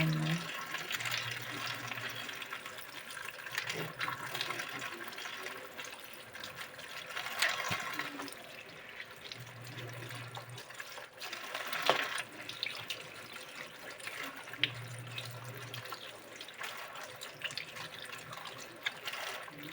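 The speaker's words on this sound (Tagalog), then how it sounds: "hugasan natin isa-isa guys yung dahon para siguradong walang uod" Vegetable leaves being washed one by one under a running kitchen tap, with a steady stream of water splashing into a sink and occasional louder surges of flow across the whole stretch.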